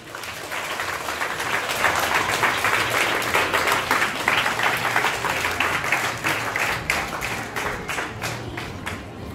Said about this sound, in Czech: Přichází a ji prosím přivítejte potleskem.